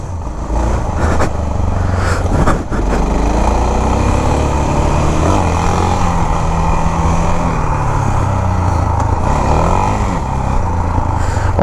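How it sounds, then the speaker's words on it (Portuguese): A motorcycle engine roars close and loud, revving and dropping in pitch as the rider shifts through gears, a continuous buzzy drone with rising and falling sweeps. "Ó, dá uma trocada de marcha."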